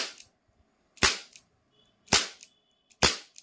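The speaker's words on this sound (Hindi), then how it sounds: "काफ़ी प्यारा साउंड है इस गन का भी।" Webley MKVI 2.5-inch CO2 pellet air revolver firing three sharp, loud cracks about a second apart, each with a short decay into near-silence, and a faint click beforehand.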